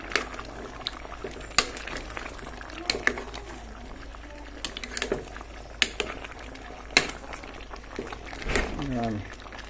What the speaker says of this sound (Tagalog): Kumukulo na o.